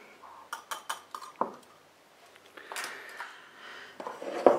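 Small whisk beating eggs in a bowl for fairy cake batter, a series of quick metallic clinks and taps against the bowl at close range, uneven in rhythm.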